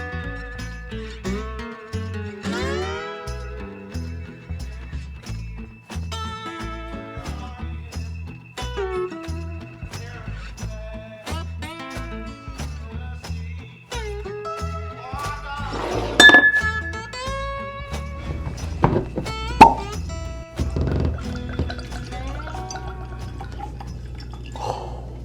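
A bottle of Jack Daniel's Coy Hill whiskey is cracked open, then poured in a string of clinks, glugs and drips into a glass, close up, with one louder clink partway through and no talk.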